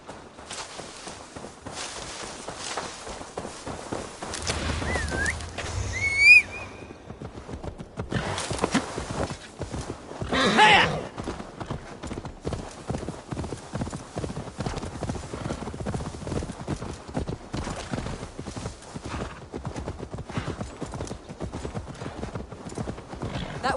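Horse hooves clip-clopping in Assassin's Creed Valhalla, a steady walking rhythm with occasional neighs, close and continuous across the clip, with brief game sounds layered over it.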